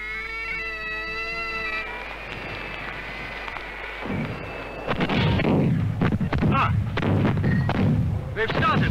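Jacobite rebel cannon opening fire at the Battle of Culloden, 1746: after a sustained tonal drone, a dense series of heavy booming blasts, loud and close, in irregular rapid succession.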